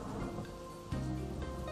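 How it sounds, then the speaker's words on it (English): Rainy-season rain falls steadily with a low rumble of thunder swelling midway, a continuous wash of drops under a soft background tone, with no voices. "After summer, the rainy season arrives."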